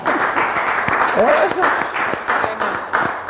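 An audience at a talk on women's leadership breaks into brisk, sustained clapping, with voices heard over the applause.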